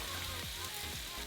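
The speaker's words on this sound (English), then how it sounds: "And once that's hot, we're gonna add in our onions and garlic." Onions and garlic sauté in olive oil in a hot pan, a brief steady crackling sizzle heard up close, quieter and even throughout, with a couple of faint low knocks underneath.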